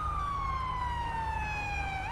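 An ambulance siren wails continuously at a police shooting scene, its pitch sliding down slowly and then jumping back up. Steady engine or road rumble runs beneath it, with no talk.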